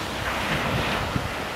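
Sea waves break and wash along the shore under steady wind buffeting the microphone, a continuous roaring rush on a chilly, non-swimming day.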